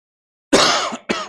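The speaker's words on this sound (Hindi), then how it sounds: "थोड़ा सा आज खांसी चल रही है" After a moment of silence, one person coughs twice up close: a longer rough cough, then a shorter one.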